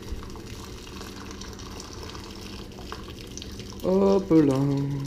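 Cooked pasta water poured off through a perforated lid into a sink, a brief gushing splash rising near the end after quiet kitchen background, with a short spoken interjection.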